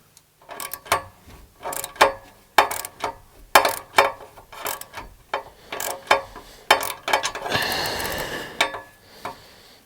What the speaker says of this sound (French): Il faut juste que je récupère mon renvoi d'angle et je vais serrer la deuxième.